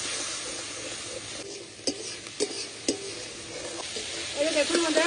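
Spice paste of ginger, garlic, salt, turmeric, coriander and red chilli powder with a splash of water fries in oil for a rohu fish curry, a steady close sizzle broken by several sharp spatula scrapes.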